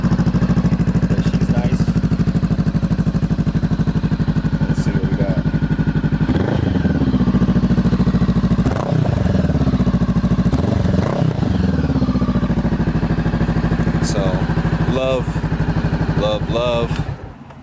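Motorcycle engine cold starting and then idling loudly and steadily up close, with a rough, uneven rumble and occasional revs or clatter throughout.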